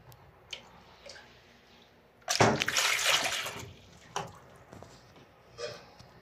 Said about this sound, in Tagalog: Lagay muna natin sa tubig guys itong atay na to, itong balon-balunan tapos atay